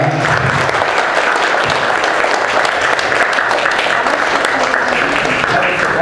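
A banquet audience gives a poet steady, full applause, with many hands clapping close together in a continuous wash and faint crowd murmur underneath.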